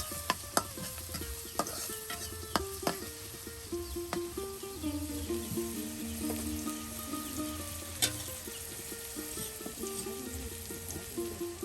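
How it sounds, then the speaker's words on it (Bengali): Cooking oil sizzles in a pan in a rural village kitchen as boiled potatoes wait nearby, with sharp metal clinks and scrapes of a stirring utensil over a steady low fry, no voices. "আর এখন এই যে তেল দিয়ে দেওয়া হচ্ছে"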